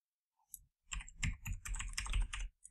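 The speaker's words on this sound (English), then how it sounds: "let's go ahead and type in my password." A password is typed on a computer keyboard as a quick, close burst of soft key clicks lasting about two seconds in a quiet room, with a single tap just before.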